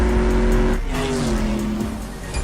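A McLaren 720S engine in the racing game CSR Racing 2 roars loudly and close, revving and dipping as the car accelerates and shifts, with a faint tire squeal and no talking.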